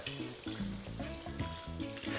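Water pours into a cooking pot of adobong sitaw (Filipino string bean stew), a close, continuous splashing and gurgling stream with bubbling underneath.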